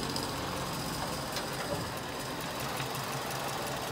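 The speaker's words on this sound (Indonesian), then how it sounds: "Mesin suara masih halus." Ford Laser car engine idling with the hood open, a steady low mechanical hum with faint rhythmic ticking, quiet and continuous with no talk.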